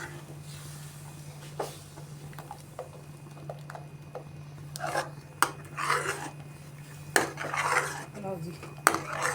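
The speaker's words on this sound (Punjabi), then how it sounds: "ਥੋੜਾ ਜਿਹਾ ਆਪਾਂ ਨੇ ਦੁੱਧ ਹੋਰ ਐਡ ਕਰਿਆ ਹੁਣ ਮਿਕਸ ਕਰਾਂਗੇ" Metal spoon scraping and clinking against a pan while white sauce with added milk is stirred for pasta, irregular close scrapes and taps that grow busier toward the end over a steady low kitchen hum.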